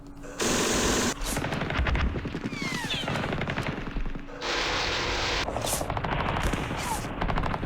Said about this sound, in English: And we have some heavy machine guns.